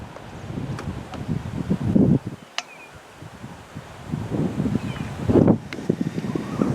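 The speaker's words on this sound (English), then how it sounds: "it's very, very windy today, incredibly windy" Strong, gusting wind pushes through bush trees on a cold day in the Manyeleti reserve, a broad roaring rush that swells and fades in waves with brief lulls between.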